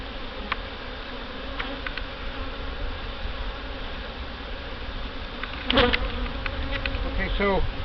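Honey bees buzz steadily around an open hive during a mid-July inspection, a close, continuous drone with a few louder passes near the end.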